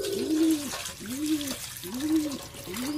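Pet pigeons coo in a steady series of low, rounded calls, four clear coos in close succession, heard up close, with faint trickling water and soft background noise.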